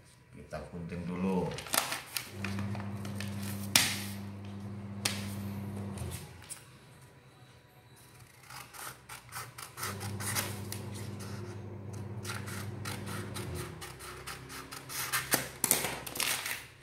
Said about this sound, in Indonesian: Nah, kita gunting.